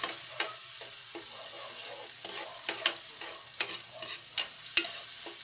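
Onions sautéed and stirred in a hot pan, with a continuous sizzle and repeated scraping strokes of the utensil at an uneven rhythm, close and with no talking.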